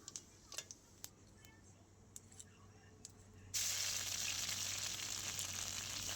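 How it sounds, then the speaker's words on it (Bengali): Ginger paste frying in mustard oil with a bay leaf, whole garam masala and cumin: faint scattered ticks and crackles at first, then a sudden steady, brighter sizzling hiss. "আদাটা আমি হালকা ভেজে নিয়েছি"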